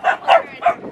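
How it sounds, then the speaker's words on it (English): A Chow Chow puppy barks three times in quick succession at other puppies, close and loud, with short yappy barks and brief gaps between them. "she was barking at them"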